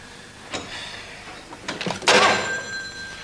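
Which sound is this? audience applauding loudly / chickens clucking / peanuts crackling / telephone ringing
telephone ringing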